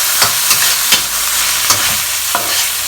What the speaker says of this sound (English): Okay, once this is done, push the meat back in and mix it up well.